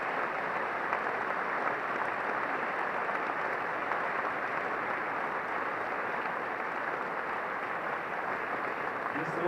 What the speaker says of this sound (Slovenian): Še enkrat nagradimo z aplavzom slovensko športno elito.